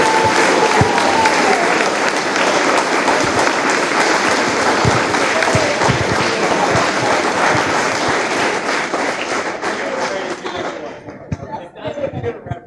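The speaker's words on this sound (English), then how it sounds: "So if we could get another round of applause for them all." A crowd at a high school football senior appreciation night applauds steadily and loudly, with some chatter and light laughter mixed in as the clapping thins out toward the end.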